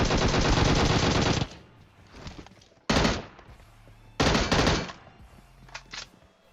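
Gunfire in the video game PUBG: a long loud burst of rapid automatic fire, then two shorter bursts separated by quieter gaps with faint distant shots, no talk.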